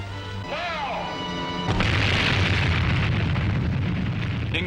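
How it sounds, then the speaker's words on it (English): Atomic bomb test explosion: a sudden deep blast breaks in after a brief swooping tone and rolls on as a loud, sustained roar, with a voice heard early. "The explosion had a beauty that cannot be described"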